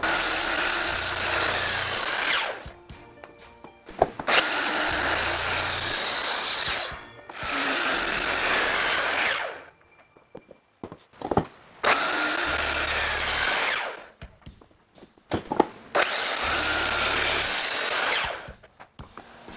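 A power tool cuts wooden legs to size for a handmade end table in a makeshift woodworking shop, with four loud, sustained cutting bursts of about two to three seconds each, separated by quieter handling clatter and knocks.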